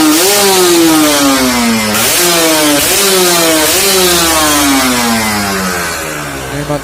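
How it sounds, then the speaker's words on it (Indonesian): A Kawasaki Ninja RR two-stroke motorcycle, just repaired after a radiator coolant leak into the oil sump, revved loudly and close up in several rising throttle blips over a buzzy engine note, with no talking. "Dan ini kita coba lagi bro gas."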